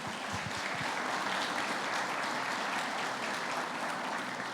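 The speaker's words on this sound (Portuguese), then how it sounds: "aplauda Jesus" Congregation clapping in praise during a church service, a steady, dense round of applause with a few louder claps near the start.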